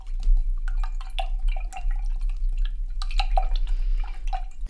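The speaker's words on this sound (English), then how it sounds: "And then I'm going to rinse out my brush again." A paintbrush is rinsed in a water cup during an acrylic sunset seascape painting session, with soft, close drips, taps and swishes of water scattered over a few seconds.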